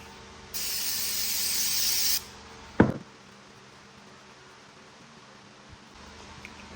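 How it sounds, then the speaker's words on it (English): A can of brake cleaner hisses in one steady burst of under two seconds onto an LS cylinder head, close and clear, followed by a sharp knock and then quiet shop background. "Let's give it a quick wipe down with some brake cleaner."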